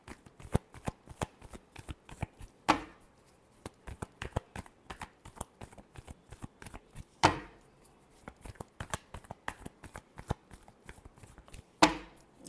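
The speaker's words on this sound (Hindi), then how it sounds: "last shuffle" Tarot cards being shuffled in a rapid run of crisp, close riffles and snaps, with a few louder bridge-like flurries standing out; no voices.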